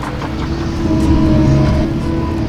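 A six-wheel truck engine in Farming Simulator 19 holds a loud, steady low drone that rises slightly in the middle, heard close and alone without talk.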